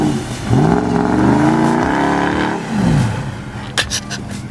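Lifted truck revving hard as it pushes into a deep snowdrift, engine climbing and falling in pitch twice over a few seconds, followed by a couple of sharp knocks.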